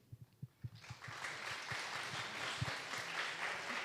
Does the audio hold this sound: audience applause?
yes